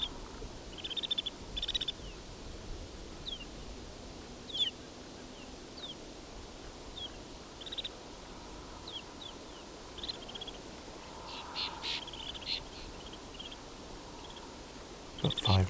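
Scattered high, thin chirps and calls from a flock of snow buntings, sounding like only a few birds, faint over a quiet outdoor background with a low rumble.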